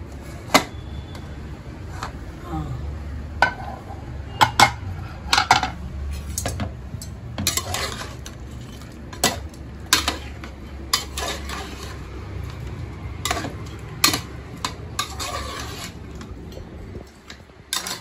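A large pressure cooker is opened in a kitchen, with repeated sharp metallic clanks and clinks of the lid and pot over a low background rumble, no talking.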